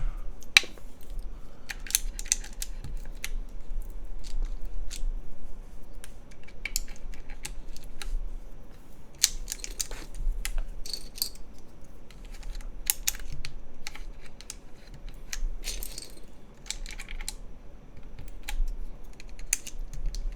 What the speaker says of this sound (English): Now let's get the keycaps back on there.